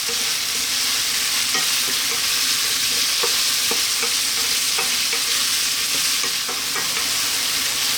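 South Indian lamb curry fries with a loud, continuous sizzle over medium-high heat, with occasional light scrapes of stirring in the pan.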